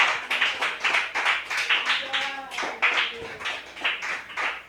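Church congregation clapping together at an evening service, rhythmic rounds of applause that come in regular bursts, with a few voices and tonal sounds rising briefly in the middle.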